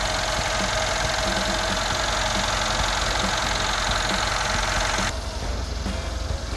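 A white 2015 Mercedes S63 AMG 4MATIC coupe with about 86,000 km idles under an open hood, giving a steady, close, loud mechanical hum that softens slightly near the end.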